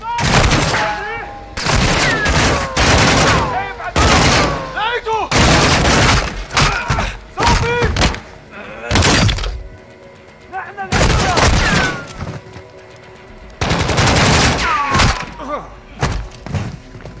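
Bursts of gunfire in the video game Modern Warfare 2, loud repeated volleys and thumps coming in clusters with short gaps between them, while voices talk over the shooting.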